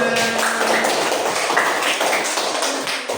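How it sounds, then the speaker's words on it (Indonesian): Classroom of elementary school students clapping for one another, a dense, steady burst of applause from many hands close by, fading slightly toward the end. "Tepuk tangan untuk kalian semuanya."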